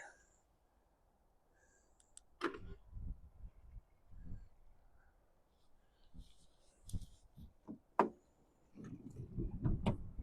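Locking a 2011 Ford Grand C-Max Titanium: scattered clicks and clunks from the door and lock mechanism, with a sharp click near the end, over quiet background and faint handling sounds.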